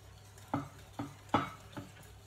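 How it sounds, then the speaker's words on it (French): Chocolate cake batter being stirred by hand as flour is mixed in, heard as four soft, separate scraping strokes against the bowl, close and quiet, with no talking. "Il faut bien mélanger."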